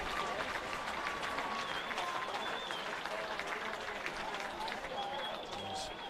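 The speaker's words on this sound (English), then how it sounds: "A generous applause from the crowd here at Wyong Oval." Generous crowd applause at Wyong Oval during a rugby league grand final, a steady distant wash of clapping from the stands, fairly faint, with a commentator talking over it.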